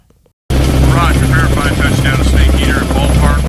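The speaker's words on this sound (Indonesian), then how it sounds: "Becket dan Cole diantar dengan helikopter menuju ke pegunungan Snake Eater." A helicopter in an action film about a sniper mission flies toward mountains, its loud, steady rotor and engine drone starting abruptly after near silence and continuing under a voice.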